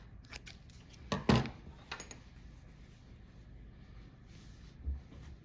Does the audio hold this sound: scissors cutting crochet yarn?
yes